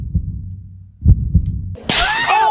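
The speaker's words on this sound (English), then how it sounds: "She slapped me again!" A sharp slap from the AI Girlfriend Simulator game, one crisp smack landing after a few soft low thumps, followed by a bright ringing whoosh.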